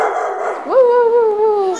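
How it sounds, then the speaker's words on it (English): Dog vocalizing: after a short rustle, a single drawn-out tonal yip or howl-like bark rises and holds steadily for about a second, close and fairly loud. "He barks sometimes."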